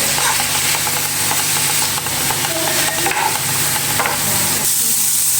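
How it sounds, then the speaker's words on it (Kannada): Garlic frying in a pan for palak rice, a loud, continuous sizzle with stirring scrapes running unbroken from start to finish. "ಬೆಳ್ಳುಳ್ಳಿ ಇದಕ್ಕೆ ಹುರ್ಕೋಬೇಕು ರೀ. ಹಸಿ ವಾಸ ಹೋಗೋ ತನಕ ಹುರ್ಕೋಬೇಕು ರೀ."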